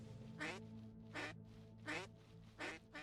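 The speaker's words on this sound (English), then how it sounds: "They're quacking at me now." Four evenly spaced quacks from ducks in the video game Unpetrified, each burst short and clear, over a steady low musical hum from the game's environment.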